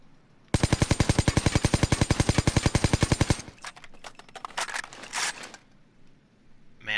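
Full-auto bursts from an AK-74 assault rifle in the game Payday 2: a rapid, loud, evenly spaced stream of shots for about three seconds, followed by shorter, looser bursts and scattered shots that trail off.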